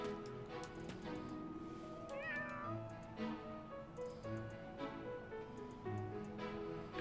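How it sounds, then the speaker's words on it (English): A cat meows a few times in Fire Emblem: Three Houses, a short wavering call rising over steady background game music, with no voices. "I don't have a pet the cat button."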